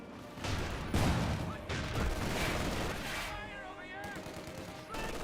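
Tank gunfire and battle explosions in the World War II strategy video game Company of Heroes 2, a loud dense barrage of shots and booms with a commentator's voice running over it.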